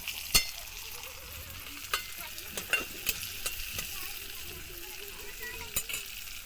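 Onion and tomato sautéing in a pan for drumstick-leaf greens, a soft, low sizzle punctuated by irregular sharp clicks of a spoon against the pan, fairly quiet overall.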